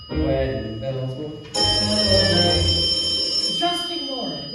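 A stage bell rings loudly and continuously for about two seconds, a bright metallic trill over music, then stops abruptly as singing and orchestra carry on in a theatrical musical.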